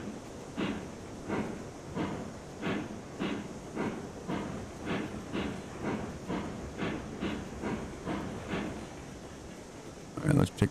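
A steam locomotive reversing in the railroad game Railroads Online gives a steady, even series of soft chuffs, about two per second, at moderate distance, ending in a few louder knocks.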